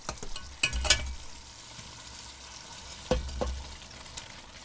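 Boiled rice stirred into hot jaggery syrup in a pan, a soft steady sizzle broken by a few sharp scraping stirs near the start and again about two-thirds through.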